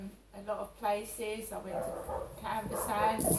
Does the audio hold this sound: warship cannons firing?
no